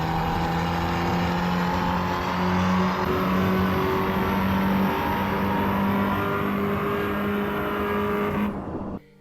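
Race car engine in the Assetto Corsa EVO racing game, heard from inside the cockpit, drones loudly and steadily at high revs with a faint rise in pitch, then cuts off abruptly near the end.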